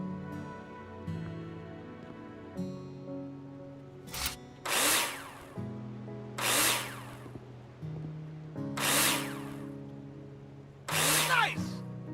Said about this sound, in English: you need to use screws to attach it. Take your drill out and screw them in.